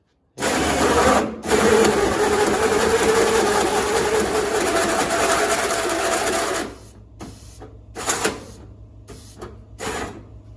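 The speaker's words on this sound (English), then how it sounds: "Turn the compressor on." An air compressor in a garage where a Model A hot rod is being worked on starts up and runs with a loud, steady buzzing drone for about six seconds, then cuts to quieter clicks and knocks.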